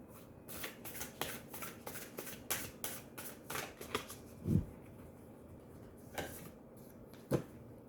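Oracle cards being shuffled during a love-fortune reading, with repeated crisp riffling bursts in quick succession, then a pause and a couple of isolated louder card slaps, close and alone without talk.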